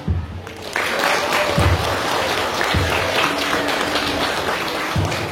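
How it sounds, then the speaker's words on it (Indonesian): An audience claps at a school report-card event, a dense, sustained round of applause at close range with a few louder hand claps poking through the steady patter. "Kita berikan aplaus yang meriah"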